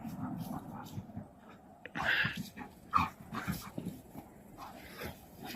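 Two dogs play together in a large outdoor enclosure, whimpering and yipping in short bursts with scuffling between them, fairly close but soft, with a person talking quietly in the background.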